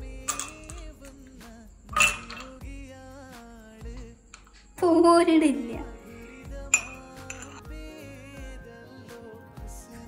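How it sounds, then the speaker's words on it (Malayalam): Four or five ice cubes dropped into a glass while making cold coffee, giving a few sharp clinks spread across the moment amid kitchen clatter, with a voice speaking briefly. "ഇനി നമ്മൾ ഒരു 4-5 ഐസും കട്ട് എടുത്തുകൊണ്ട് നമ്മൾ ഈ ഗ്ലാസ് ഇട്ട് വെക്കാം"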